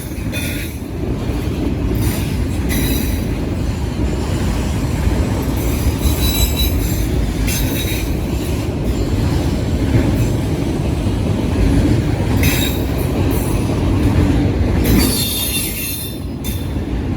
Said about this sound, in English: Oh, that sounds cool, banging those diamonds like that.